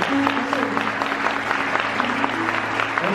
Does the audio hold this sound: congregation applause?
yes